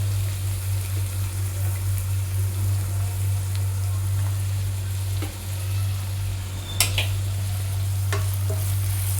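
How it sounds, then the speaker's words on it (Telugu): Onions fry in oil toward golden brown, giving a steady soft sizzle over a constant low hum, with a few faint scrapes and one sharp clink near the end. "బాగా గోల్డెన్ బ్రౌన్ కలర్కి వచ్చేలాగా బాగా ఫ్రై చేసుకోవాలి ఆయిల్లో"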